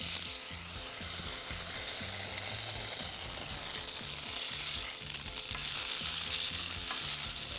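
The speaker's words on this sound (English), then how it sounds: "we're gonna lightly pan fry this tofu" Tofu pan frying in about two teaspoons of coconut oil, a dense continuous sizzle and crackle close up, with steady bubbling texture and no talking.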